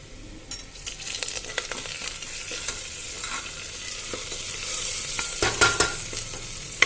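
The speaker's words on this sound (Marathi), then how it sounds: "आता आपण त्यामध्ये हिंग घालूया कढीपत्ता घालू" Asafoetida and curry leaves hit hot oil with frying onion and crushed garlic for a masoor amti, giving a steady close sizzle with scattered spoon clinks and stirring scrapes that swell louder near the end.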